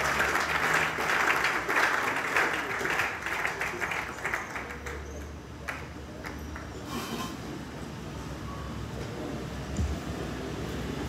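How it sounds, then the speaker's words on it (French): An audience at a church conference applauds with a broad wash of clapping that is fuller at first and then settles into a thinner, steady patter, with some voices mixed in. "Pour eux, on peut acclamer en exagérant, ce n'est pas un problème."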